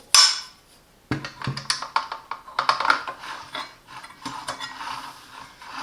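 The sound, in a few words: Allen key removing screw to install circular saw blade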